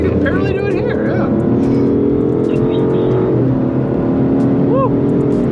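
An Aston Martin DBS Superleggera's engine revs hard and accelerates, a loud continuous roar with rising pitch and one gear shift, heard from inside the car as people talk over it.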